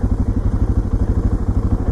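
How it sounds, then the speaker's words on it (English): Suzuki DR650 single-cylinder motorcycle engine idling roughly, a loud close steady low thumping pulse with uneven, slightly lumpy rhythm throughout, no voices. "bike isn't idling"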